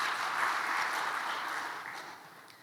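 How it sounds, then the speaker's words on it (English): Audience applause at a CEO summit in Ghana, a steady broad wash of many hands clapping at moderate distance that holds evenly, then thins and fades toward the end. "I believe they deserve another round of applause."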